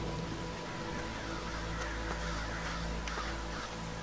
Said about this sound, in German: Das sind aber keine Krähen, das sind Möwen.